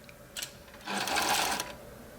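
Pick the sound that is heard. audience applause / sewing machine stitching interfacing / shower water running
sewing machine stitching interfacing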